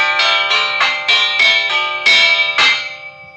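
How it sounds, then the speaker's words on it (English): Brass door chimes ring out in a quick descending-and-repeating run of about eight loud, close bell-like strikes, each tone ringing on and overlapping the next. "Ring the chimes and you'll do what we just did."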